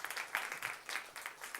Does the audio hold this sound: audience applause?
yes